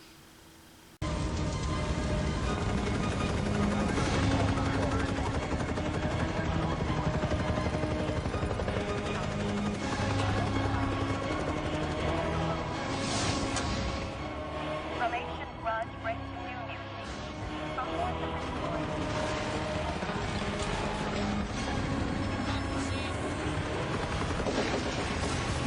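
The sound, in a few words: helicopter hovering in Romeo and Juliet film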